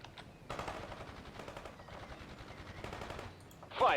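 Rapid machine-gun bursts from a Soviet assault in the strategy game World in Conflict rattle in quick clusters, fairly close and punchy, with short pauses between volleys and a sharper blast at the end.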